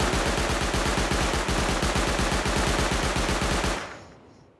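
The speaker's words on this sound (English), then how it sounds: "There was a shotgun trap." A shotgun trap in the game Rust firing a rapid, unbroken volley of loud, close blasts for almost four seconds, then cutting off and fading into a quiet tail.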